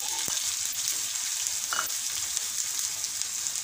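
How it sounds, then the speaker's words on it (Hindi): Curry leaves and tempering spices crackle in hot oil for an Indian potato paratha meal, a steady bright sizzle with scattered pops, close and alone with no voices. "और फिर हम डालेंगे ये करी पत्ता और अच्छे से इसको तड़कने देंगे तड़के को"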